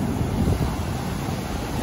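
Beach surf and flowing seawater give a dense, loud rushing wash, mixed with wind buffeting the microphone, with no voices.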